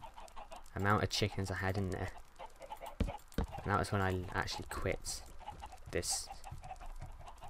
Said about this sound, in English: I built this, put a load of chickens in there